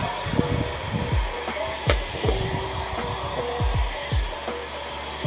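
A Showsee anion hair dryer runs on its lowest setting, giving a steady blowing whoosh. Handling clicks and rustles sound close by, and nobody talks.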